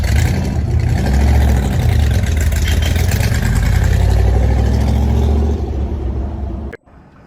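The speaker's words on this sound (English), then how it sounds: "Wow, Rev too fast." A loud classic car engine, a big-engined muscle car, rumbles and revs steadily for several seconds, then cuts off abruptly near the end.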